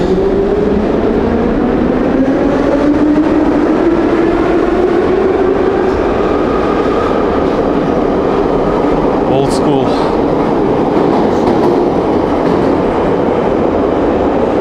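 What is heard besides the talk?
old metro train car running on rails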